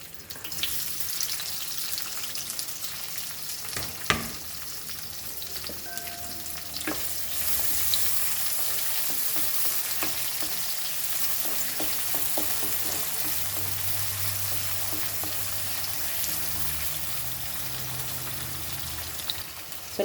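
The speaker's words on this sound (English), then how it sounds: "we'll fry our onion into this" Onion fries in two to three tablespoons of oil in a pan for dal makhani, a steady, fairly quiet sizzle with occasional clicks and scrapes from stirring, heard alone without talk.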